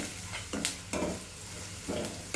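Chopped green chillies hitting hot oil in a pan with onions for soya manchurian, soft sizzling with a few stirring scrapes, quiet and close with no talk.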